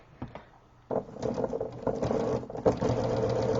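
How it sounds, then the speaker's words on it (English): A sewing machine stitches a scant quarter-inch seam through quilt-block fabric, a few soft clicks first, then a close, steady rapid whirring patter that runs to the end. "put it on your sewing machine"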